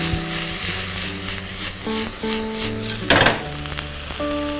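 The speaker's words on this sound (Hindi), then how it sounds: "अब प्याज और साथ में हरी मिर्च।" Onions and green chillies frying in a pan give a steady, close sizzle with stirring and scraping, a sharp burst of crackling midway, and music playing underneath.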